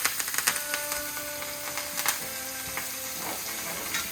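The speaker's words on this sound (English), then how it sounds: "We're going to toss our butter in with our herbs" Butter and herbs sizzle in a pan, basting a steak with a continuous crackling fry broken by small pops and light scraping, close and moderately loud, with no voices.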